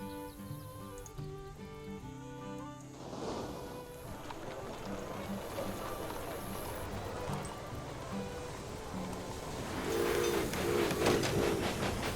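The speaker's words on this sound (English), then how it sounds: "the gold trains are moving out in an interesting way" Trains in the Railway Empire video game move along a gold-rush line with a steady rolling rail clatter, while a short musical or whistle-like melody sounds near the end over a continuous game soundtrack.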